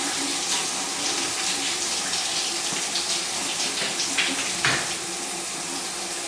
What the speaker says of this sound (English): You can come over here and turn this sink on, hot and cold.